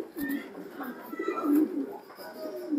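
A silver-patterned Afshan grizzle pigeon coos softly in a series of low, rolling calls close by, fairly quiet, with faint voices and background noise underneath.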